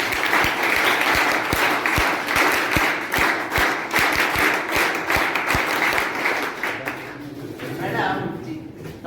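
Indian college event audience clapping, dense sustained applause with sharp individual claps throughout, loud and close, fading toward the end; someone talks over it.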